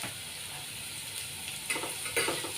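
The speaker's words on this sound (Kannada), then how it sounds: "ಅದಕ್ಕೆ ಈರುಳ್ಳಿ ಚೆನ್ನಾಗಿ ಫ್ರೈ ಆಗಿದೆ." Onions frying in a pan, a steady soft sizzle and hiss with a couple of brief stirring scrapes near the end.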